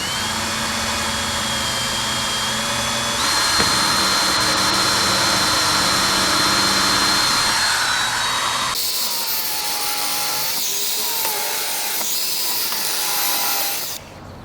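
Screw gun driving screws into wood, giving a long, loud, steady whine that shifts pitch partway through and then cuts off near the end.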